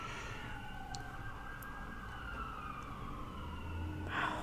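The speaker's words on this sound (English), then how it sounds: "The ambulance in the background." An ambulance siren wails steadily in the background, a faint, continuous tone rising and falling at a distance, with no one speaking.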